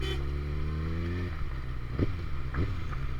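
Kawasaki Ninja ZX6R sport motorcycle on the move, a steady loud engine drone with rising then settling pitch as the rider shifts, accompanied by continuous wind rush, no talking.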